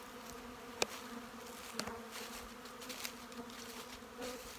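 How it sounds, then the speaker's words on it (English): Agitated honey bees buzz in a soft, continuous drone, with individual bees flying close past in brief louder passes. "these bees, settle down. They're not happy with me today."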